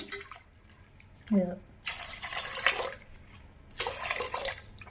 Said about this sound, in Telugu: ఇదిగో సరిపడా వాటర్ పోస్తున్నాను